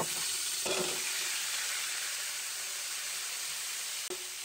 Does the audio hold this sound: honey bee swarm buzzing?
no